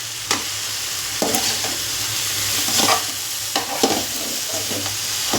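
Soya chunks with green chilli and chilli powder sauté in a hot pan, a steady loud sizzle broken by repeated scraping stirs of a spatula, with no talking.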